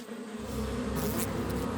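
Cartoon bees buzz in a dense, continuous swarm drone, steady and fairly close, with no speech over it.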